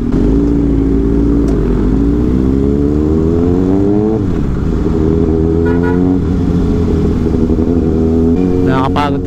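A Kawasaki Ninja ZX6R sports bike engine hums and revs close by in traffic, a steady loud drone that climbs in pitch, with a horn toot near the end and a rider talking over it.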